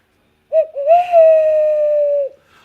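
Person imitating an owl with a single drawn-out hoot, clear, close and loud against silence, preceded by a short broken lead-in note.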